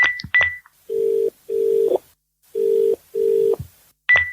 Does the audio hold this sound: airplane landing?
no